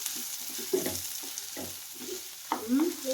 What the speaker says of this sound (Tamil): வெங்காயம் வந்து நல்லா வந்து வேகணும்